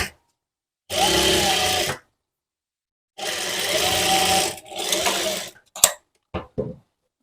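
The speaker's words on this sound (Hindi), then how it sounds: "इसके बाद हम इस सिलाई को डबल कर लेंगे" A sewing machine runs a doubled line of stitching along a sharara seam, two steady buzzing bursts of about a second each, loud and close, followed by a few brief clicks and handling knocks.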